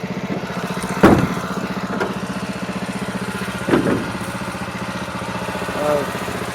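A small engine idles steadily with a low, even throb, running on the last fuel in its carburetor; a few brief louder clanks break in near the start and middle, and the engine keeps going throughout without dying out.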